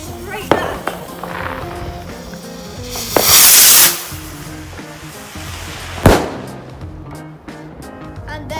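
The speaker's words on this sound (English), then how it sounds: "so I'm far enough away when the rocket goes off." Firework rocket on Bonfire Night goes off outdoors: a hissing whoosh of launch followed by sharp cracking bangs, several distinct pops spread over a few seconds, with a voice talking in the background.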